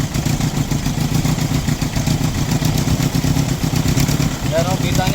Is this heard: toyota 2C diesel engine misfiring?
yes